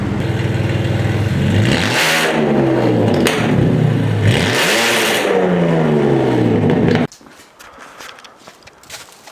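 A BMW E46's engine revs hard several times through a raspy catless straight-pipe exhaust with new headers, each rev rising and falling, then it cuts off to near quiet.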